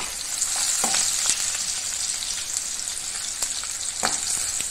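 Cumin seeds crackle and sizzle in hot oil, a steady bright frying hiss with scattered sharp pops, fairly close and loud, with no voices.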